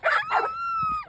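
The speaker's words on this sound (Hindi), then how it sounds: "कैसे पागलों की तरह भौंक रहा" A dog barks wildly outdoors beside a canal: two quick, close yelping barks, then a drawn-out whining howl that trails off. No one speaks.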